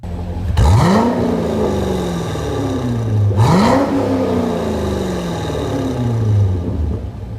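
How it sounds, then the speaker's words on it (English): A Corvette C6 with a new aftermarket exhaust revs twice, each blip snapping up sharply then settling into a throaty, slowly falling idle, loud and close with no talking. "what my Corvette C6 sounded like right after I got a new exhaust"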